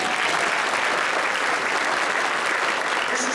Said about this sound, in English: This is Bernie. Let's give him a round of applause.